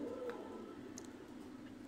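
Soft cooing from traditional high-flying pigeons in a loft, a low murmuring call under faint background noise, brief and fairly quiet.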